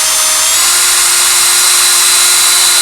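A power drill spins continuously with a high, steady whine, loud and close, with no pauses.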